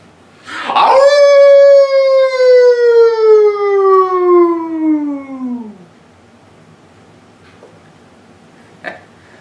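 A person imitates a wolf howl with one long, loud, sustained human howl that slowly falls in pitch and fades out, followed by quiet.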